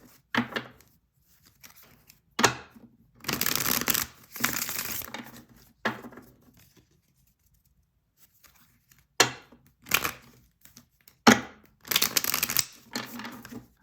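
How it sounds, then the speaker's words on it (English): Tarot cards are shuffled in several separate bursts, each a crisp riffling, flapping rush close to the ear, separated by quiet pauses. "I'm going to do a couple shuffles."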